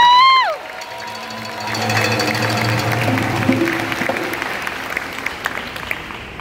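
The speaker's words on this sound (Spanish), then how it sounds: "Quiero que me den un fuerte aplauso a Enid" Audience applause for a pianist at a music school dance band concert in San Juan, a broad clapping wash rising after a held tone fades and continuing steadily for several seconds alongside lingering musical notes.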